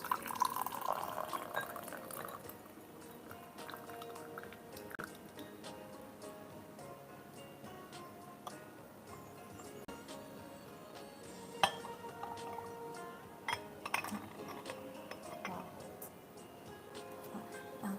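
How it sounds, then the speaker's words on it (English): Water being poured off Zhangping Shuixian oolong tea from a brewing vessel, a faint trickle and drip with light clinks of glass or porcelain, quiet and close, sporadic over a long stretch without speech. "Pour water out."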